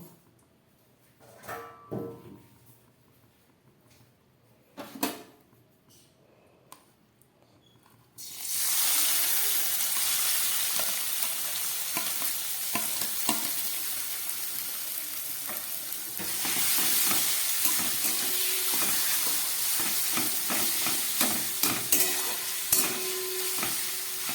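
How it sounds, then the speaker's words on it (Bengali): Chicken pieces for an aloo chicken momo filling sauté in oil after potatoes have been fried, with scattered stirring clicks at first, then a loud, steady sizzle that swells further partway through, close by. "এবার এই তেলের মধ্যে আমি চিকেনটাকে কষিয়ে নেব।"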